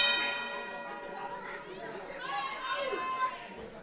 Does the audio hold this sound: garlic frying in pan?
no